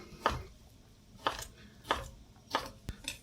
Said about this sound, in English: I'm going to first cut into slices and then cut across them to make these little lardone